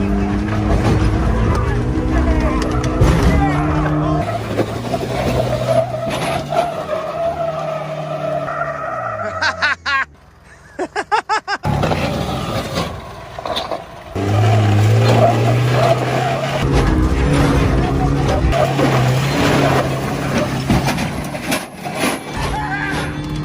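A Toyota Hilux pickup truck with a tire pumped to 90 psi climbs a hill, its engine revving hard and tires spinning and scrabbling, loud and close, with a short lull partway through.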